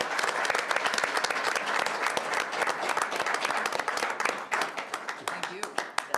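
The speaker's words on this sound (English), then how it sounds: "this deserves a round of applause" An audience at a school board meeting breaks into sustained applause, dense and fairly loud at first and then thinning into scattered claps toward the end.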